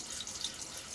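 Running water splashes and trickles close by as a man wets his face during a wet shave, a brief, even watery hiss with no voice.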